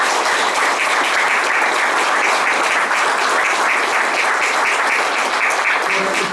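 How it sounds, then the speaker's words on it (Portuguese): A crowd at a volunteer fire brigade anniversary ceremony gives loud, continuous applause for the fire commander, a thick uninterrupted roar of clapping from many people. "vamos dar uma salva de palmas aqui ao nosso Comandante dos Bombeiros"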